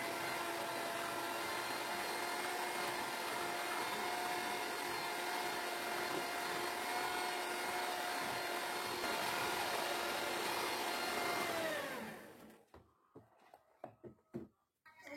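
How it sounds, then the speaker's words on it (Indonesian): An electric mixer whirs steadily as it blends home-ground granulated sugar into cookie dough, loud and continuous for about twelve seconds before it is switched off, leaving a few scattered knocks and clatters. "Kemudian mixer kembali hingga tercampur rata."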